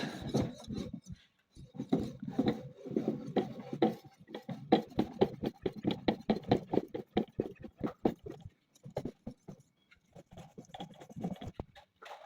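Fine whetstone rubbed against a STIHL chainsaw bar for finishing, a close series of quick gritty scraping strokes in uneven bursts with short pauses between.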